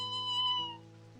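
A single drawn-out cat meow from a video game, clear and tonal, sounding close and alone.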